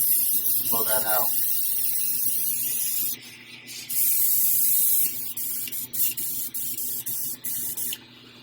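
An airbrush sprays thinned paint in a steady, fairly loud hiss that runs for several seconds, then breaks into short on-off bursts as the trigger is worked.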